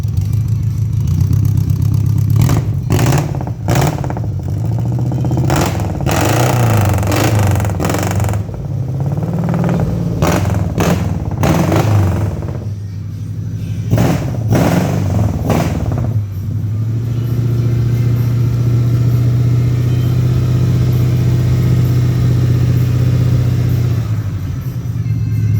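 A Suzuki Colt T120SS two-stroke motorcycle fitted with an AJN aftermarket muffler idles, then revs in a series of sharp, crackling bursts before settling back to a steady, close, loud idle.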